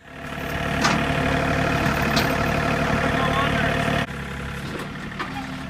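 A tractor engine runs steady and loud while straining to lift a shipping container, a deep continuous rumble that dips slightly toward the end.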